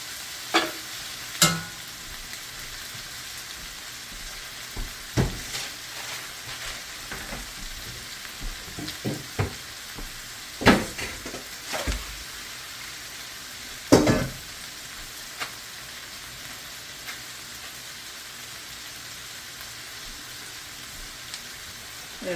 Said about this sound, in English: towards the end here, we're going to add the noodles that we've been soaking